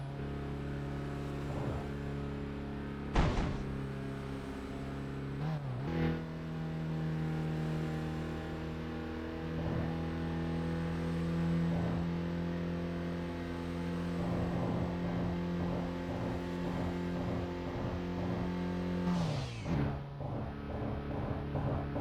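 A car engine idling and revving while overheating, a droning steady tone that rises and falls in pitch across several revs, with sharp thumps near the start and end.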